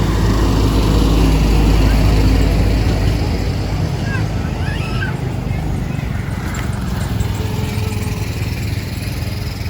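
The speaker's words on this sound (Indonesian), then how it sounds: "sebentar ada kereta lewat" A loud, steady low rumble of a train passing nearby, filling the whole stretch with continuous rolling noise.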